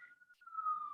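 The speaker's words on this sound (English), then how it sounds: "excuse my siren." A faint police siren wails in the distance, its tone holding and then slowly sliding downward over a brief moment.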